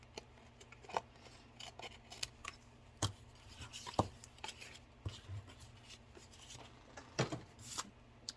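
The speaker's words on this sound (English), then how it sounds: "I'm going to just cut it off about right here" Scissors cutting paper to make a junk journal pocket, a series of quiet crisp snips and paper rustles at close range, irregularly spaced, with no talking.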